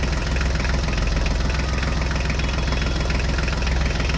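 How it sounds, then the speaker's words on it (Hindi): A mini tractor engine runs at a steady idle, a loud, close, continuous rumble with a fast, even knocking pulse and no pauses. "चलो ट्रैक्टर स्टार्ट करो,"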